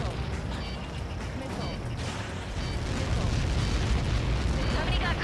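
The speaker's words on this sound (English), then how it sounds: "Somebody got caught in that explosion" A massive blast in the combat flight game Ace Combat 7 rumbles and roars with deep, sustained booming that swells louder toward the end, with crackling debris and radio voices underneath.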